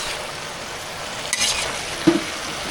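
Potato fry sizzles steadily in a hot pan while a utensil stirs and scrapes through it, with a couple of brief clinks near the end.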